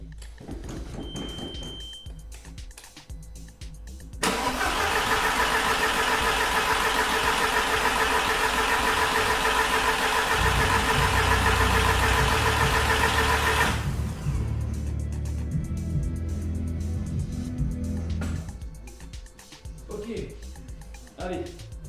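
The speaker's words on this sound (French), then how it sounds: "On va prendre les clés et déjà on va voir si le démarreur se lance." An Audi S3 starter motor cranks loudly for several seconds with a steady whirring drone, then settles into a lower engine rumble, with someone talking before and after.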